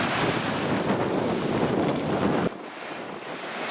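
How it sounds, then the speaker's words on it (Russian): Cold wind blowing in off a rough winter sea at a bay, with steady surf noise and heavy wind buffeting the microphone, dropping in strength near the end. "С моря ветер холодный."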